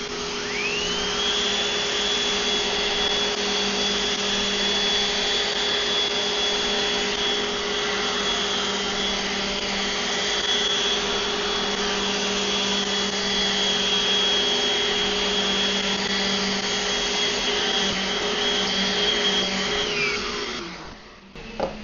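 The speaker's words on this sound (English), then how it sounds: "you could see as I was sanding, I could push this thing around with 2 fingers" A DeWalt random orbital sander works on wood with a loud, steady motor whine and rough buzzing that runs unbroken before winding down near the end.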